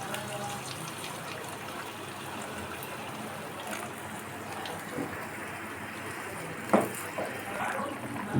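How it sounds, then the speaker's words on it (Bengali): Warm water is poured into a pan of jackfruit and prawn curry as it cooks, a soft, steady gush running the whole time, with a brief clatter near the end. "এখন পরিমাণ মতো জল দিয়ে দিচ্ছি,"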